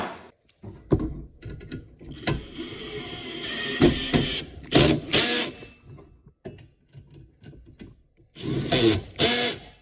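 Screws being tightened on the leg assembly of a Members Mark 4-burner griddle, irregular bursts of driver whirring and metal clatter with short gaps, close and fairly loud, no talking.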